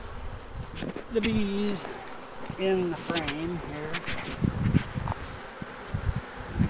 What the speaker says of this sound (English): I'm going to try and shake some more bees down onto the board.